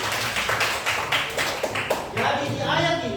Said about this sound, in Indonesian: Iya, ya, aplaus dulu, aplaus